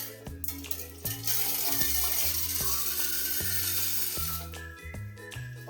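Water pours off horse gram being rinsed to wash out small stones, a steady rushing splash in the middle under loud stepped background music that carries throughout.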